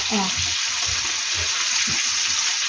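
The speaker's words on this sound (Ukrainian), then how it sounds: "Піджарюється чуть-чуть тако." Meat frying in a pan for Ukrainian-style buckwheat with gravy, a steady loud sizzle filling the whole moment with faint voices murmuring beneath it.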